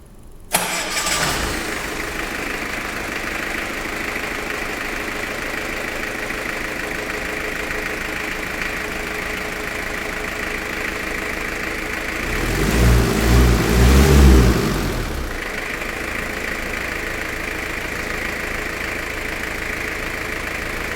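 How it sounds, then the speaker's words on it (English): A typical four-cylinder diesel engine in a marine technician shop cranks, fires and settles into a steady, loud idle, with a brief burst of heavier revving about two-thirds through before returning to idle. "I'll fire it off real quick just so you can see what they're going to be doing. So it's a typical 4-cylinder diesel."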